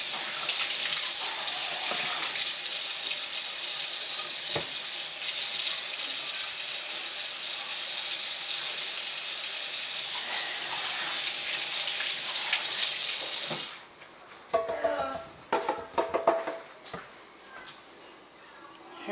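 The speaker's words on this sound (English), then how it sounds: "I'm gonna wash it real quick at the sink." Tap water runs steadily into a sink during washing, a continuous close hiss that stops abruptly, followed by a few scattered clatters and handling noises.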